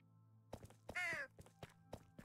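A crow caws once inside a video game, a harsh, scratchy call standing out above a steady low hum, with several short soft thumps and clicks scattered before and after it.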